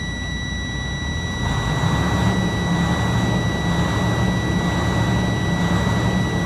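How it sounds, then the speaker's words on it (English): A truck engine is raised to about 1,500 RPM during an in-cab pre-trip inspection, making a steady, continuous drone with a low rumble and broad hiss that holds level throughout with no talking. "What I'm going to do is idle up my engine to about 14 to 1500 RPMs"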